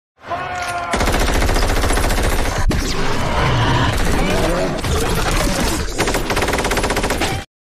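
Gunfire from the sci-fi film The Tomorrow War, loud sustained automatic bursts rattling continuously, with a voice talking over the shooting.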